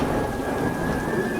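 Heavy rain pours in a dense, steady roar with a low thunder rumble beneath, a short continuous storm bed with no voices.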